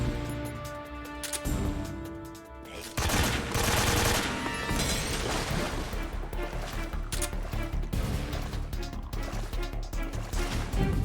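Gunfire from a regular gun in Metal Gear Solid 3: Snake Eater, a dense continuous burst of loud rapid shots over game sounds, running for most of the stretch after a short quieter opening.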